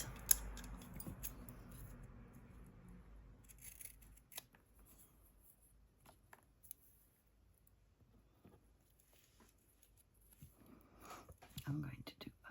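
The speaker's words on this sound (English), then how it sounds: "I know I have scissors." Scissors snip through paper while a junk journal is being made, soft close cuts scattered between quiet handling sounds and murmured talk.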